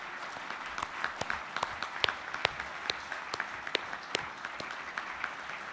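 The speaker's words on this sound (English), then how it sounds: "Let us give them a round of applause" Scattered, sparse clapping from a convention audience honouring pastors and imams at a peace convention opening plenary, individual claps distinct and irregular, moderately distant and fairly quiet.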